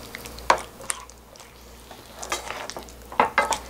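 Tteokbokki rice cakes are stir-fried in a pan, with a soft sizzle under irregular scrapes and clacks of a utensil against the pan, close and moderately loud.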